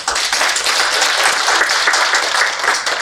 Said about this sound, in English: So I think you should all clap for yourself first.